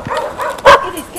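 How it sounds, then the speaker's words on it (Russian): A single dog inside a house gives one short, loud bark-like yelp partway through, with faint whimpery sounds around it. "В доме находится одна собака."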